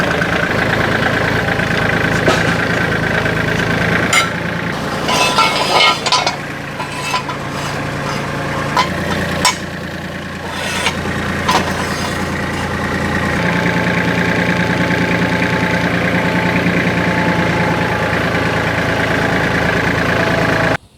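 A Razorback slope mower's engine runs continuously, loud and close, with a rough, steady drone whose load shifts audibly midway while the mower works a steep slope, then settles back to an even roar, and no voices are heard.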